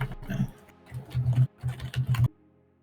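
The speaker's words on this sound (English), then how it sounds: "He's busy typing emotes." Fast clicking keystrokes on a computer keyboard come in short irregular bursts with brief pauses, fairly close and moderately loud, mixed with a low grunting hum, then stop abruptly near the end.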